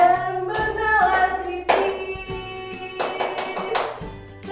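Rhythmic hand claps from a group doing the Tepuk PPK clap chant, crisp taps in a patterned sequence mixed with singing or chanting voices.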